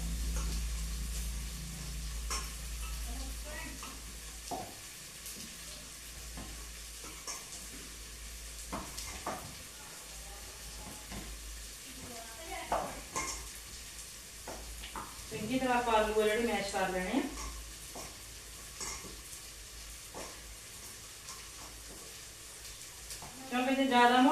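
Boiled potatoes are mashed in a pan, giving soft irregular taps and squelching scrapes, with a wetter churning patch partway through, mostly under ongoing talk.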